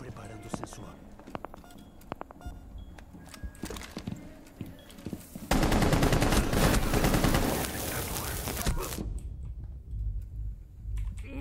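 Rapid bursts of gunfire in the video game Rainbow Six Siege crackle sharply between scattered clicks, then a dense loud volley of automatic fire, with talking underneath.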